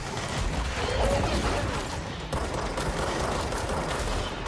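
Sniper gunfire in the video game Control, heard as a dense, continuous barrage of loud gunshots and crackling impacts that fills the whole short stretch without a break.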